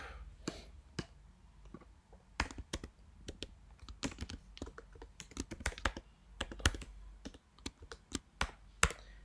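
Someone types on a computer keyboard while entering a spreadsheet formula, producing close, crisp, irregular key taps in quick bursts with brief pauses and no talking.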